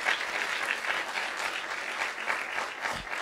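Church congregation giving strong applause to the Lord during a bilingual sermon, continuous mid-distance clapping from a crowd, fairly soft and unbroken.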